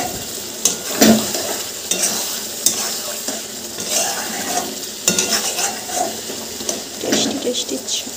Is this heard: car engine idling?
no